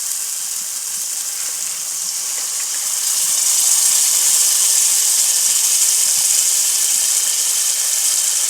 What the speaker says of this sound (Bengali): এবার আমি প্রয়োজন মতো জল দিয়ে দেবো।